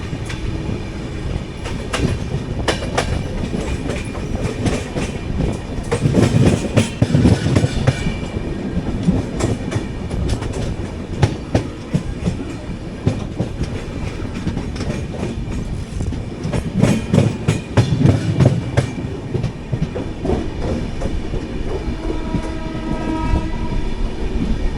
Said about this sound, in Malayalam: ഓപ്പോസിറ്റ് ലൈനിൽ ഏതോ ഒരു വണ്ടി കാട്ട്പാടിയിൽ നിന്ന് ഇറങ്ങി വരുന്നുണ്ട്.